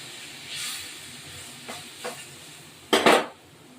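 A little water poured into a pan of rohu fish curry with potatoes, setting off soft sizzling and hissing bursts and stirring, ending in a loud, brief steamy sizzle.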